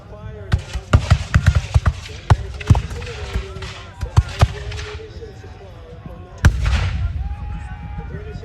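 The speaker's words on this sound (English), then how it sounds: "They're keeping up a random fire now." Musket fire in a reenactment of the Battle of Breed's Hill assault: an irregular string of loud sharp reports, some close together and some spaced out, with one heavy boom near the end, as someone narrates over them.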